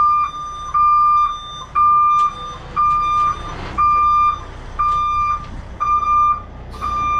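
A big truck backs slowly through a tight city spot, its reversing alarm beeping in a steady, loud, evenly spaced pattern of about eight beeps over a low engine rumble, with no talk.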